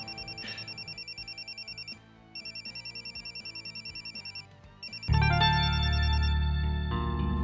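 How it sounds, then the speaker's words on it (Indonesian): Mobile phone ringtone ringing in a repeating electronic pattern, several bursts of rapid beeping tones separated by short pauses, then louder music-like tones take over near the end. "Nina, Kenapa tidak angkat? nanti aja telepon balik."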